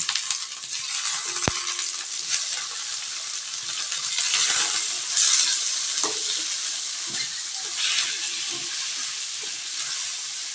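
Shrimp fry with onions and garlic in a pan for a sotanghon dish, sizzling steadily and close with occasional scraping stirs and a sharp metallic clink early on. No voices are heard.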